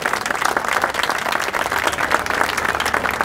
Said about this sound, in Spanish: un aplauso para las señoras